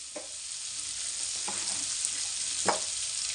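Chopped onions frying in a pan with salt for a horse gram curry, a steady close sizzle throughout broken by three soft stirring scrapes.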